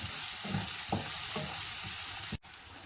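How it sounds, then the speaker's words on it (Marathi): Chopped onion frying in hot oil, a steady close sizzle broken by soft stirring scrapes, with a brief dropout near the end; no talk. "आता हा कांदा तेलावर लालसर रंगावर व्यवस्थित परतून व्हायला पाहिजे."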